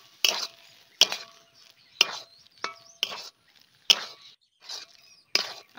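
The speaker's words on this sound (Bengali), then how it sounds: "আবারও 1-2 মিনিট নাড়াচাড়া করে নিলাম।" A spoon scrapes through a jackfruit cutlet mixture of fried young jackfruit, chopped chilli and garam masala in a pan, making about eight regular, close stirring strokes roughly once a second, each a short scraping rasp.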